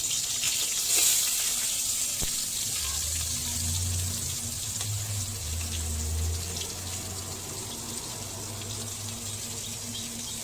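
Two chopped onions dropped into oil in a wok after frying fish, giving off a steady hissing sizzle with occasional low murmurs underneath, continuous and fairly close.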